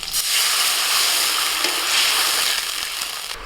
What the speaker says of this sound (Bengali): আমগুলোকে একটু হালকা করে ভেজে এবার জল দিয়ে দিচ্ছি